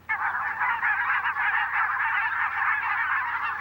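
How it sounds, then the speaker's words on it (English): A flock of barnacle geese honks continuously in a dense, overlapping chorus of nasal calls, steady and fairly close with no pauses. "Some, like barnacle geese, move north to take advantage of the very short but abundant Arctic summer."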